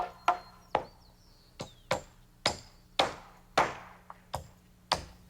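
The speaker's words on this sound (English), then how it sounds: "Joe nails his end to a ceiling joist, and the same on the other side." A carpenter hammers nails to fix common rafters to a ceiling joist in a roof frame: about a dozen sharp, ringing wooden strikes in an uneven rhythm, close by and clear, with no talking.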